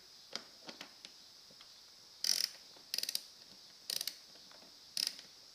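A ratchet wrench on an extension clicks as it backs out a hard-to-reach screw on a Toro Timemaster mower during drive belt replacement, with scattered faint clicks followed by four short bursts of rapid ratcheting, close and fairly quiet.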